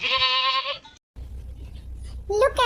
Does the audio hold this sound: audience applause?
no